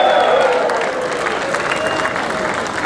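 Crowd at an outdoor bed race charity event in Cathedral City, with applause and cheering in a dense, steady wash of clapping and voices, loud and continuous, with a few whistles rising above.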